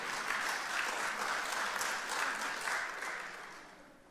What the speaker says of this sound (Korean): 이러든 박수를 해주셔도 되는데